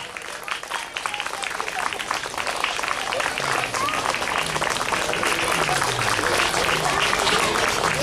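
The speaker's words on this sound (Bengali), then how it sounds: "মন থেকে আমরা সবাই করতালি দেব।" An audience at a primary school annual cultural program gives continuous applause during a book presentation. The clapping is dense and swells steadily from a softer start to a loud, even roar.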